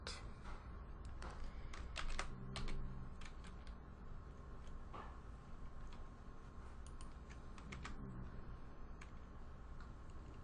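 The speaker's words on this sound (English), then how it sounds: "Typing XML for me is so difficult." Quick irregular keystrokes tap on a computer keyboard while XML is entered for an Android app manifest, a close, quiet patter of clicks in short bursts with brief pauses.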